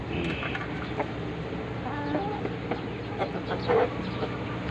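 Giant Brahma chickens cluck softly nearby in short scattered calls over a low steady background hum, fairly quiet, with no talk.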